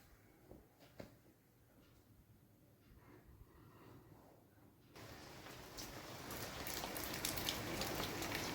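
Rain falls at home. The first half is quiet with a few knocks, then a steady broadband hiss of rainfall begins and grows louder and denser.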